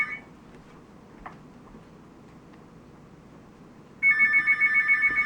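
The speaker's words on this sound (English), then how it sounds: "we don't answer phone numbers we don't know, so we're just going to let it ring" Landline telephone ringing unanswered in a quiet home, the bright electronic ring starting about four seconds in and pulsing steadily and loud to the end after a stretch of low room hiss.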